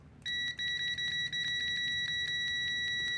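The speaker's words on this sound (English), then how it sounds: "I have switched it to the continuity setting." WinAPEX ET8103 multimeter in continuity mode gives a clear, steady electronic beep, with short interruptions early on from the probes making and breaking contact, then a continuous tone.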